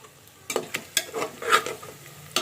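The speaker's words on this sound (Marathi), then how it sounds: "इथे कांदा परताय टाकलाय" Onions sautéing in a pan for chicken biryani, a soft sizzle punctuated by several distinct stirring scrapes and taps at an irregular pace, close by and without speech.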